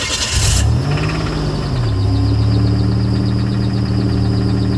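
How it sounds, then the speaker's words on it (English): A Buick Grand National's engine, once broken and rescued from a storage unit after its engine computer failed, fires up with a brief rising rev that settles into a steady, loud, rumbling idle. "We can rev it up and do all sorts of stuff and it won't die."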